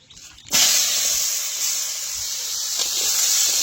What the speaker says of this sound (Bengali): এবার আমার কলাটাকে ভেজে নেই